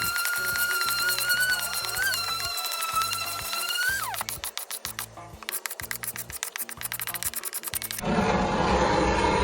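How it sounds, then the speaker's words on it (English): Wood being sanded on an Olive Meyer wooden chest, with repeated rasping strokes in a steady back-and-forth rhythm close up, then a shift to a smoother, continuous sanding hiss near the end. "I'll just let you sit with the sound of sanding for a moment"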